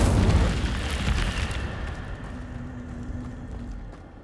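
An Incendio fire spell blast in the video game Hogwarts Legacy erupts with a loud, roaring boom up close, then trails off into a fading, crackling rumble over several seconds, with no voices over it.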